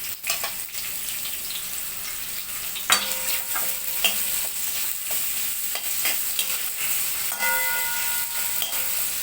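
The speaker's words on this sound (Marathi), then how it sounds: "आता या तेलामध्ये आपण हे लवंग, दालचिनी आणि स्टारफूल ते घालून घेऊया." Cloves, cinnamon and star anise fry in hot oil with onion for a veg Kolhapuri, a steady soft sizzle broken by a few sharp clinks and scrapes of a stirring spoon against the pan.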